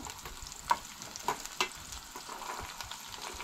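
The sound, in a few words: ginger and garlic frying in a pan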